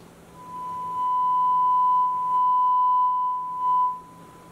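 A steady sine-wave test tone plays through speakers driven by a Marantz 2215B stereo receiver under restoration, a pure single-pitch hum lasting several seconds with slight level swells, over low background hiss.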